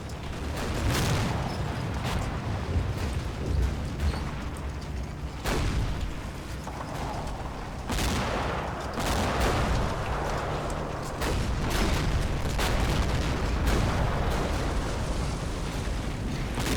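Heavy booming explosions and artillery fire rumble almost continuously as a tank is destroyed in a Combat Mission Battle for Normandy game, with loud blasts recurring every few seconds over a dense low roar.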